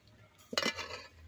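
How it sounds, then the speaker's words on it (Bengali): A spoon clinks against a bowl while stirring a milk powder and flour mixture into milk, one quick metallic scrape and chink in a quiet kitchen. "এই দুধের মধ্যে আমি মিশ্রণটা খুব ভালো করে গুলে নেব"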